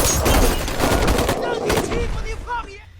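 Rapid bursts of gunfire in a film scene as creatures emerging from behind a bus are shot at, loud and dense for about a second and a half, then fading into quieter tonal cries with no talk.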